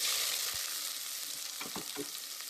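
Steady sizzling of chopped onions frying in hot oil, a constant hiss with a few soft clinks and stirring scrapes, close and alone.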